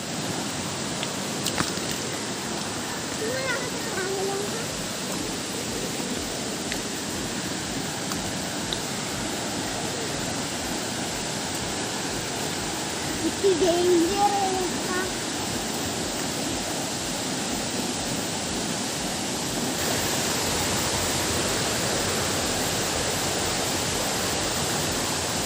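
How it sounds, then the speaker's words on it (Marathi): Sawat Kada waterfall at Rajapur roars as a steady, broad wash of falling water, continuous and fairly loud throughout, with faint voices briefly mixed in partway. "तर मित्रांनो आपण सावतकडा धबधब्यावर पोचलो आहे."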